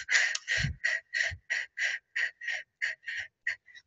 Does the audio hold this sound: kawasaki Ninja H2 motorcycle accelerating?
no